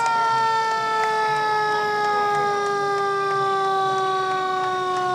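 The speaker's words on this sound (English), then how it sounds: "I am not going to try to talk over some of those sirens" Fire truck sirens wail steadily and loudly during a Fourth of July parade in Edmonds, several overlapping tones holding without a break.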